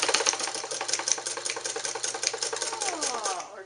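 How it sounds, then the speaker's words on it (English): A Morse Fotomatic MZZ sewing machine runs a straight stitch at steady speed, its needle producing a rapid, even mechanical chatter close up with a faint hum beneath. "let's just sew a stitch"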